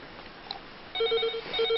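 A telephone starts ringing partway through, giving a repeated electronic trill of short pulses against a quiet indoor background in a TV drama scene.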